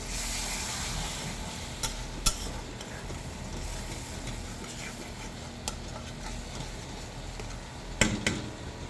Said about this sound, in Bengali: একটু জল দিয়ে দিলাম।